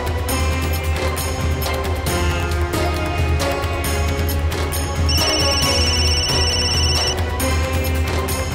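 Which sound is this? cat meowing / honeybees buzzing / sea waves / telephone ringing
telephone ringing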